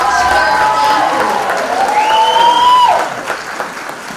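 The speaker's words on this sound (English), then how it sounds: "Please give all of our candidates a round of applause." Pageant audience applauding the candidates, a steady wash of clapping with some whistles and cheering, sustained and loud before thinning out at the end.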